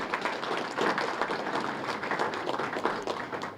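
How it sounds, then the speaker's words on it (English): A small crowd gives a round of applause for Ethel and Hector at a library renaming ceremony, steady close clapping that continues throughout. "I have a nice round of applause for Ethel and Hector"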